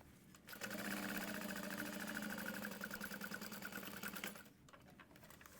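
A sewing machine stitches a half-inch seam on a bow bag lining, a close, steady whirring run of about four seconds with a rhythmic needle pulse, starting and stopping cleanly with no voices.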